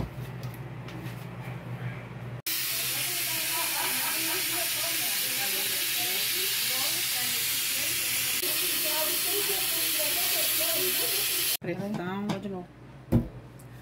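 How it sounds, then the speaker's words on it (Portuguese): A loud, steady hiss of steam rushes out of a pressure cooker for about nine seconds, with brief rattling and room noise before and after. "aqui saiu toda a pressão da nossa panela"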